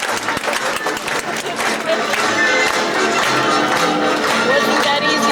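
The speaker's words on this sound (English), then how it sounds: "every time you clap your hands," A group of people on a 2000 Alaska trip claps hands steadily, a dense patter of applause that runs throughout, with voices mixed in.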